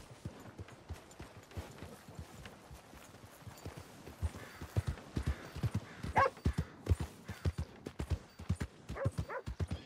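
Steady clip-clop of a horse's hooves in the video game Red Dead Redemption 2, starting softer and growing louder and closer, with an even walking rhythm.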